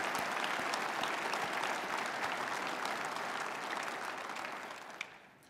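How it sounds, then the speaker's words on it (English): An audience claps for Tiffany, a county award winner, in another round of applause for her 4-H community work, a steady wash of many hands that slowly fades near the end. "Let's give her another round of applause."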